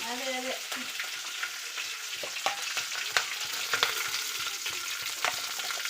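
Curry leaves are dropped into hot oil in a home kitchen while idli tiffin is prepared, a close burst of crackling sizzle that keeps spitting and popping steadily, with no voices.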